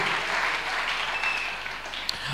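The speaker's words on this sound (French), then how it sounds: "on acclame pour le Seigneur" A church congregation applauding during a service, a dense, sustained wash of clapping from many hands that holds steady and tapers slightly at the end.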